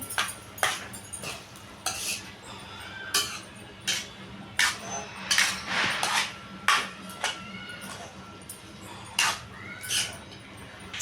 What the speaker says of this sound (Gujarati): હવે આપણે હલાવી નાખીએ એને.